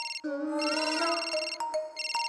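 A cartoon mobile phone plays its electronic ringtone loudly, a bright tonal melody with a rising warble that breaks off and returns in short bursts, heard alone without talk.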